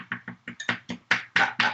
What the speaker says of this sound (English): And then I'm going to take my spoon too and just kind of mash it even more.